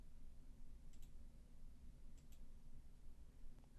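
Computer mouse clicks, a few faint sharp ticks spaced apart, sitting over a quiet steady background hum with no talking.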